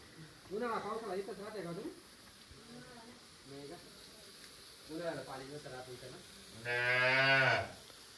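A calf moos several times at night, nearby and strongest in a final long, loud call, with quiet gaps between cries.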